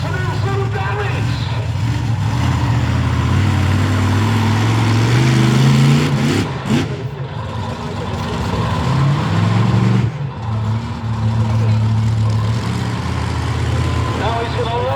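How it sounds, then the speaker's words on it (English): The Swamp Thing monster truck's engine rumbles at a 2021 car-crushing show in Great Yarmouth, idling loudly and revving up twice, with voices over it. "Now he's going to line up the truck"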